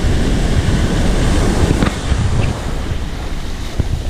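Ocean waves break steadily on the Bali coast in a continuous loud wash of surf, mixed with gusty wind noise and no voices.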